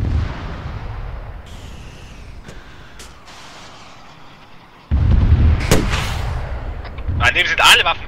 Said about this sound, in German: Sprengung erfolgt in 3 Sekunden